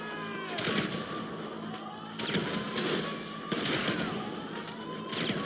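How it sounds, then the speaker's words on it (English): Sustained rapid gunfire from a firefight in the GTA 5 Online Doomsday Heist finale, dense bursts of automatic shots and blasts repeating in waves over several seconds, loud and continuous with no pauses. "I'm just opening fire because I'm trying to figure out what killed us"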